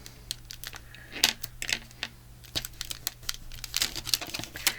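Copper foil folded over by hand for a junk journal tag gives crisp, close crinkles and taps in irregular bursts over a faint steady hum.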